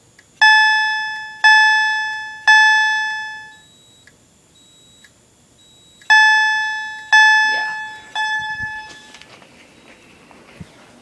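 Alarm system chimes during a system test: three loud, bright bell-like tones decaying slowly, a pause, then two more, followed by a short scraping clatter and soft handling noise, close and with no talk.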